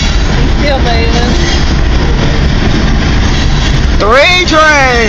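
A long CN freight train rolls past close by with a loud, steady rumble and rail noise throughout, and a voice talks near the end over the passing cars.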